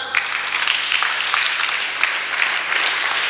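A church congregation claps together in a burst of applause, dense and close, with rhythmic swells of hand claps lasting throughout and no speech over it.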